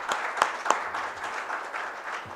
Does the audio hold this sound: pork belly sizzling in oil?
no